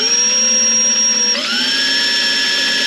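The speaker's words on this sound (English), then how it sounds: "Again, you're going to start by drilling the holes." A power drill boring holes in an RV kitchen drawer, a steady close, loud whine with a shift in pitch partway through as the bit works into the material, heard alone without talk.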